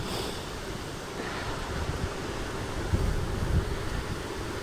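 Steady wind blows outdoors in Australia, a constant broadband rush with low, rumbling gusts buffeting the microphone and swelling slightly toward the end.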